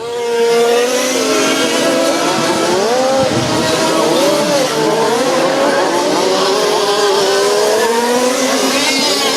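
Several 1/5 scale RC Formula 1 cars race in a French championship final, their small engines screaming loud and continuous, with pitch swooping up and down as they accelerate and brake around the track.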